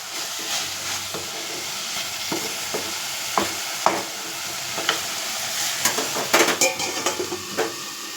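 Vegetables sautéing in a pan that gets covered, a steady close sizzle broken by repeated spatula scrapes and metallic clinks that grow busier toward the end, with no voices.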